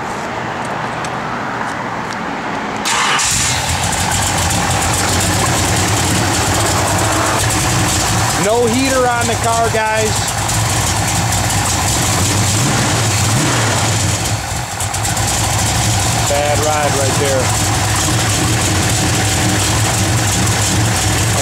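A 1968 Dodge Dart GT engine turns over and catches after a few seconds, then settles into a loud, steady idle with a couple of brief revs, while someone talks over it nearby.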